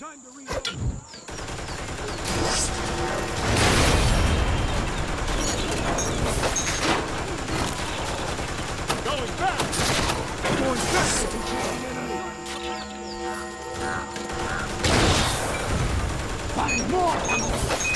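Gunfire in the Toy Soldiers: War Chest video game: dense bursts of shots and explosions go on almost throughout, loud and close, with game voices talking over the battle.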